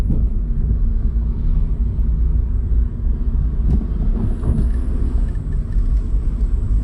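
A car drives along after its exhaust flexpipe has been repaired and its oil changed, giving a steady, loud low rumble of engine and road noise that holds for the whole stretch with small surges.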